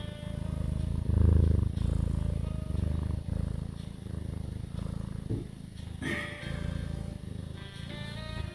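A cat purrs in a steady, rhythmic low rumble, close and fairly loud, holding on for several seconds with slight swells and a brief higher noise near the end.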